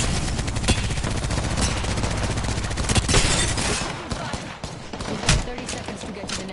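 Sustained video game gunfire, with rapid overlapping shots and bursts crackling close and loud in a near-continuous volley, with a few sharper cracks standing out toward the end.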